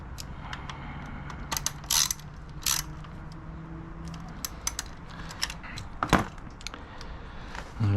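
Bolts on a Panigale clutch slave cylinder are tightened by hand with a ratchet, giving close, irregular metallic clicks and clatter over a steady background hum.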